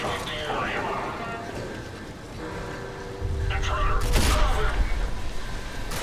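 Frag grenades explode in the shooter game RAGE, with deep booms and bursts of gunfire building into a loud, sustained roar in the second half over the game's background noise.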